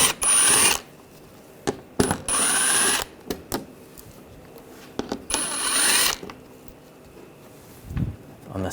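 Ratchet with a 7mm socket removing screws on a 2009-2017 Volkswagen Tiguan, several bursts of rapid clicking and whirring separated by pauses, with sharp metallic ticks and light handling noises close by.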